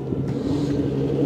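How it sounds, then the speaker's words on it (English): A blue and black Nissan GT-R pulls away from a JDM car meet, its engine giving a loud, close, steady rumble for a moment. "There's a Nissan GTR leaving."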